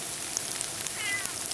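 A pet cat meows faintly once or twice outdoors on a wet, rainy evening, with soft dripping rain around and no talking.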